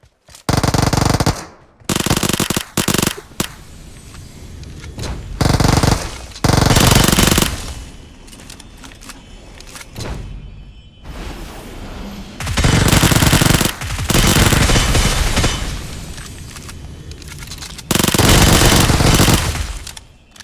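Loud video game gunfire in sustained automatic bursts separated by brief pauses and quieter stretches of game noise, close and dominant throughout with no talking.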